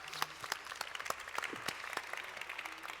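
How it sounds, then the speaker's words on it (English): Scattered clapping from a small audience at a business conference fireside session, uneven and moderately distant, lasting throughout with no speech. "A round of applause,"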